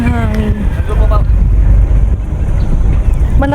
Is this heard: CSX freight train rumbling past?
no